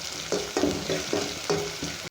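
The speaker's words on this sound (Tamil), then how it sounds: "நல்லா வதக்கிடலாம்." Shallots, garlic, curry leaves and green chillies fry in oil in a pan for fish kulambu, with loud sizzling and a series of scraping stirring strokes at an uneven rhythm, close and without talk.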